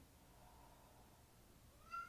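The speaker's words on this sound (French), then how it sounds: "Si vous entendez du bruit, c'est notre chat qui veut rentrer dans le salon." A house cat meows faintly from behind a closed living-room door in a quiet home, with soft drawn-out cries over low room hiss and a brief, slightly louder call at the end.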